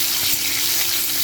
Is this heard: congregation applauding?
no